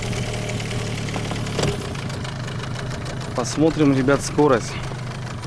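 A new Gladiator 9.9 outboard boat motor runs steadily during its break-in on the water, a constant low droning hum that carries on while someone talks over it.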